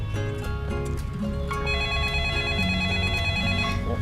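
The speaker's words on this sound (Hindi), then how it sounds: "आपका फ़ोन बज रहा है" A mobile phone rings indoors with a repeating electronic ringtone, loud, close and continuous throughout, with no voices over it.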